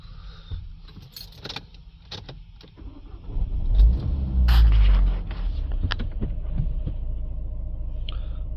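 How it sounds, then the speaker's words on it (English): A Renault Trafic diesel van engine cranks and catches with a loud low surge, then settles into a steady idle, with clicks and small mechanical sounds before the start. "Start the engine back up again."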